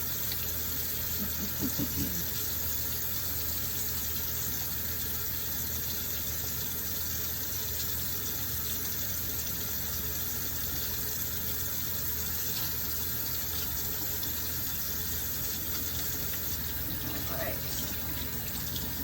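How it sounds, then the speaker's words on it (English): Tap water runs steadily from a faucet into a sink while hands are washed, a continuous close hiss with faint splashing throughout and no clear talk over it. "we want to start by washing our hands"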